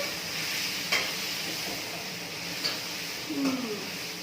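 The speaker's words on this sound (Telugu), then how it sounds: "చూసారు కదా ఇలా ఫ్రై అవ్వాలి" Pumpkin sambar ingredients sizzle in a hot pan under a steady frying hiss, with a few scrapes and taps of a spoon as they are stirred.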